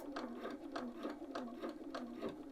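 A sewing machine stitches the patch pocket of a quilted jacket, running steadily with an even, rapid rhythm of repeated needle strokes, close and alone.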